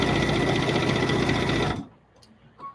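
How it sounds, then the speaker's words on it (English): A serger sewing machine piecing quilt fabric strips runs at high speed with a dense, fast mechanical whir, close and loud, then stops abruptly, leaving near silence with a couple of small clicks. "A serger will do this at twice the speed."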